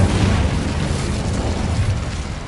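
In a Harry Potter video game, an Incendio fire spell lets out a dense, loud roaring whoosh of flame with a heavy low rumble, sustained and slowly fading over a couple of seconds.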